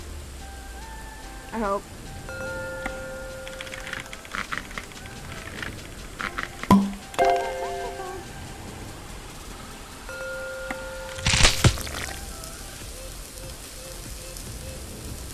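Steady rain hisses in the video game Cook, Serve, Delicious, with sparse chimes and clicks from the game on top and a brief spoken remark.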